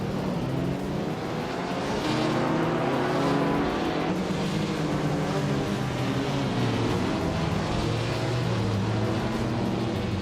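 Race cars in a racing video game, among them a 1959 Maserati Tipo 61 Birdcage, roar continuously and loudly, engines droning and shifting pitch as cars pass without a break.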